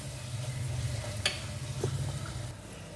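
A pot of mango and small fish curry frying steadily with a soft, continuous sizzle and bubbling, with a couple of faint clinks from utensils, no talk.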